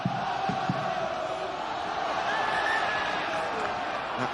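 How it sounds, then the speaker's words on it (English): A rugby crowd at a Connacht home match against London Wasps gives off a sustained, distant roar of cheering voices, a broad steady wash of noise without sharp peaks. "The crowd are starting to roar their team on."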